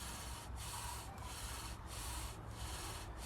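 Continuous rasping friction of a wooden spindle grinding in a bow drill, with rhythmic strokes and brief dips as the bow reverses direction, smoke rising at the bearing block.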